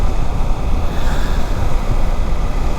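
Wind roars and buffets against a rider with the helmet visor up, riding a CFMoto motorcycle at highway speed, as a loud, dense, continuous rumble with no pauses.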